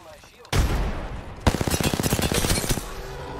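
Gunfire in the video game Apex Legends, a loud burst followed by a rapid automatic volley of close shots, with a player talking over it.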